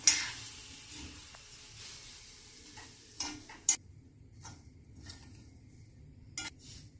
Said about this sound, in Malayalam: ഇതിന് കുറച്ച് സമയം ഇളക്കി വറുത്തെടുക്കാം.